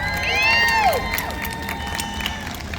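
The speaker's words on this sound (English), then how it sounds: "let's give them a big round of applause" A crowd at the Great American State Fair cheers and claps steadily, with a loud rising and falling whistle-like cry near the start before the noise settles into a sustained roar.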